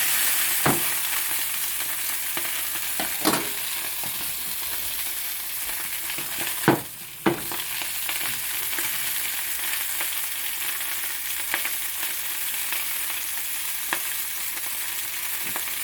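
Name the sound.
sausages browning and sizzling in oil in a pan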